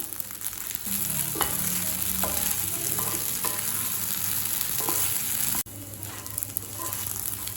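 Leftover idli pieces fry in a pan with a steady, close hiss of oil, broken by occasional clinks and scrapes of a spatula turning them; the sizzle drops out for an instant near the end and then resumes.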